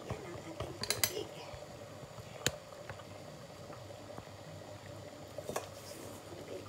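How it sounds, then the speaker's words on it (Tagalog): Water boils in a cooking pot while jackfruit dishes are prepared, a soft steady bubbling hiss punctuated by a few sharp clinks of utensils and pans nearby. "So, kumulo na yung ating tubig."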